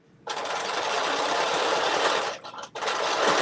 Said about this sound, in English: I am doing the quilting stitches for our bag